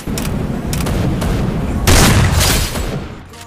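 Bursts of gunfire from the Free Fire battle royale video game, loud and dense, with a heavier boom around the middle before fading out.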